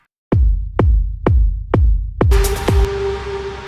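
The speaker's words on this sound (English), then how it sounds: "With a boost of 2K and then adding some attack and pulling out some sustain," Synth deep house kick drum with a 2K boost, extra attack and shortened sustain, five punchy, tighter thumps in a steady beat, then a short flash of brighter synth, heard on its own.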